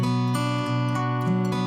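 Dry acoustic guitar strummed in sustained chords, with clear harmonic tone and a few chord changes across a short steady passage, heard alone at moderate level.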